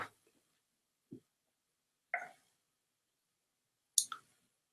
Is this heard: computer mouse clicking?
yes